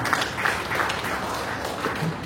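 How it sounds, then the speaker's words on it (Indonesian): Audience applauding at a university rector's inauguration ceremony in Jakarta, a sustained even wash of clapping from many hands that fades slightly at the end. "kita berikan tepuk tangan pada dia."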